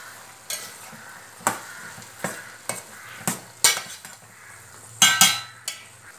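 Veg kurma being stirred and mixed in a pan, with a spoon scraping and clinking against the metal in about ten irregular strokes over a soft sizzle, close and clear with no speech.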